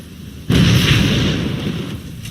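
A grenade explosion in the video game Fable III bursts in loud and sudden, then a heavy rumbling roar sustains for nearly two seconds before tapering off, with no talk over it.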